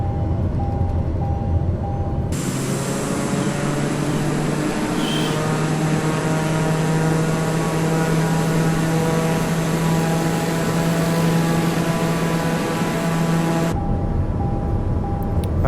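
Propeller airplane engine in Microsoft Flight Simulator drones steadily with a throttle change, a loud, constant hum with tonal harmonics and no talk.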